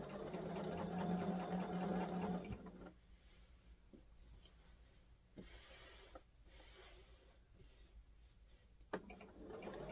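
A long arm quilting machine runs steadily, stitching with a dense buzzing drone. It eases to a quieter, lighter hum partway through, with small clicks, and no talk over it.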